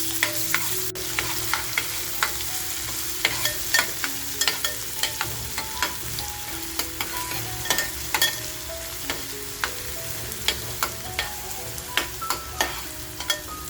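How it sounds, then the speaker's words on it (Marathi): Onion frying in hot oil in a cooking pot, a soft continuous sizzle broken by frequent sharp clicks and taps of a utensil stirring against the pot, close up and without speech. "कांदा छान आपल्याला लालसर करून घ्यायचे."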